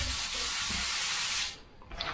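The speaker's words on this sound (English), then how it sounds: "little blast through the water again." An airbrush blasts water through itself during cleaning: a loud, close, steady spraying hiss runs for about a second and a half, then cuts off abruptly, leaving a quiet tail.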